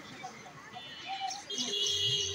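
Many birds at their nests chirp and twitter faintly in the background, several high calls scattered through the clip over a soft ambient hum.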